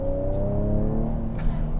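A 2023 Ford Edge ST with a 2.7-liter turbo engine making 335 horsepower accelerates hard, its engine note steady and loud, with a layered harmonic drone that holds throughout with no voices.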